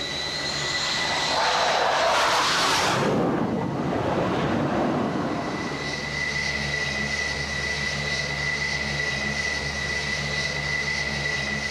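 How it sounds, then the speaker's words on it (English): A military jet aircraft, an F-14 Tomcat, approaches an aircraft carrier deck at sea, its engine roar swelling loud and close in a sweeping pass, then settling into a steady, lingering whine and rumble. "Another plane must be guided to the ship."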